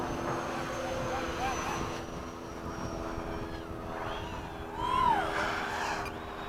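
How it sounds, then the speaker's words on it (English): Eflite 80mm F/A-18D radio-controlled jets flying in formation make a low pass over a runway, a steady rushing ducted-fan whine that swells briefly as they sweep past. "low pass from the right. Okay. Right over the runway."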